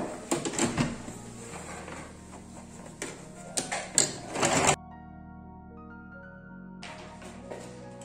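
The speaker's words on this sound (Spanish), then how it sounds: "ahora vamos a la máquina" A sewing machine stitches duvet fabric being remade into a coat, giving a steady, close mechanical whir with ticking that runs for several seconds before stopping.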